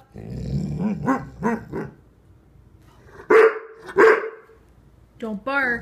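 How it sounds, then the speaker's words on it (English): A young Bullmastiff growls and grumbles low, then gives two loud sharp barks close by, followed by a short burst of speech. "Don't bark."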